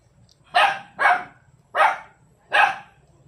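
A small young dog barks sharply at passers-by, four loud, close barks spaced about half a second to a second apart, with no voices.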